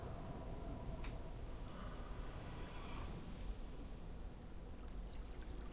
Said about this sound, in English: Maybe that's just the waterfall.